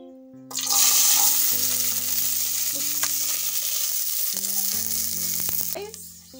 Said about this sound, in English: And then we are going to add on our onions.